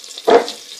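Crushed pepper and cumin drop into melted butter with a brief, sharp sizzle that flares up loud for a moment, then settles into a faint, quiet crackle.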